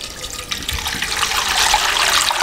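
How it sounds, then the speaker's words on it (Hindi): Water pours steadily from a jug into a pan holding egg noodles, a continuous close splashing and filling sound that grows slightly fuller over a few seconds, with no talking. "अच्छा खासा पानी शामिल कर दें, इतना तकरीबन 1 जग मैंने इसमें शामिल कर दिया।"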